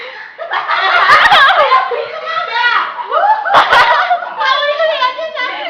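A bird imitates human laughter in chattering, giggly bursts, with a few sharp clicks in between, close and clear.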